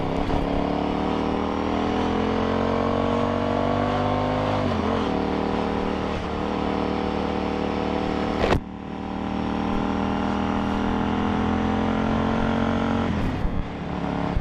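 A KTM Super Duke motorcycle ridden on open roads in Japan, its engine droning steadily with rising and falling revs, a sharp shift or throttle change near the middle and another late, heard close from the rider's position.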